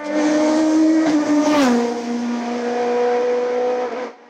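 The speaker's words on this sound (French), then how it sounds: "duel suisse qui tourne à l'avantage de Jean-Jacques Maître avec la Nova Proto NP01" A Nova Proto NP01 race car climbs a hill-climb course, its engine droning loud and steady with a brief shift dip midway before the note fades out at the end.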